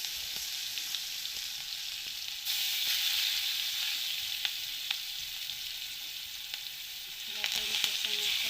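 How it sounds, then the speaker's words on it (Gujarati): Mustard seeds, cumin, asafoetida and ginger-chili paste fry in hot oil for a tempering, giving a steady close sizzle with scattered small pops. It swells louder near the start and again toward the end. "એમાં રાઈ નાખવાની, જીરું નાખવાનું, હિંગ નાખવાનું, આદુ મરચાંની પેસ્ટ નાખી દેવાની,"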